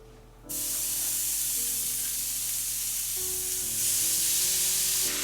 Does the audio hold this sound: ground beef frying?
yes